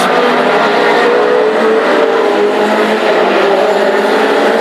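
Classic hot rod race cars on a track at Hednesford, engines roaring loudly and continuously at close range, a sustained high-pitched drone with no talk over it.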